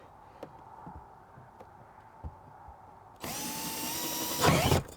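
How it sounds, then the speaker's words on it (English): A power drill bores a hole in the corner of truck APU duct work on a Kenworth W900, with a few light knocks first, then a sudden loud whine that rises near the end. "First thing I'm going to do is drill my hole right there in the corner."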